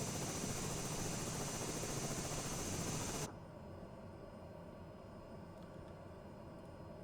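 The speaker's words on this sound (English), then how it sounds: "It really sounds like a chopper when it's in feather low, this thing." Simulated aircraft engine in Microsoft Flight Simulator, its propeller feathered at low power, giving a whirring, helicopter-like drone; a steady broadband roar drops to a quieter, even hum after about three seconds.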